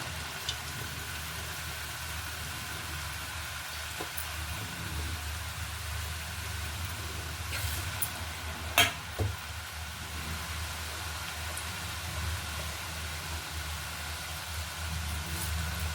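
Chakli, spiral rice-flour snacks, fry in hot oil over a medium flame with a steady, even sizzling hiss throughout. A couple of brief clicks or taps sound partway through.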